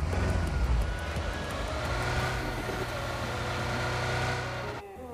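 A vehicle engine in PUBG Mobile drones steadily at high volume with a rough, low rumble, holding a constant pitch for about five seconds before cutting off abruptly near the end.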